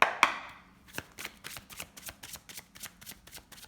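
A deck of oracle cards is cut and handled at close range: two sharp snaps open it, then a soft, rapid run of riffling card flicks follows, quiet and even, with no talk.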